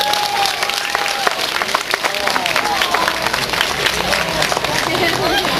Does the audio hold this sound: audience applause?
yes